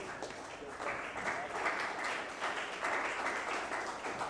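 Audience at a parliamentary formation meeting in New Delhi applauds, a continuous, moderately loud patter of many hands clapping with slight swells, no voices.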